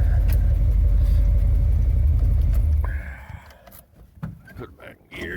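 A ramp truck's engine, just cold-started in blizzard conditions, rumbles loudly and steadily up close for about three seconds before dropping to a quieter background with scattered clunks.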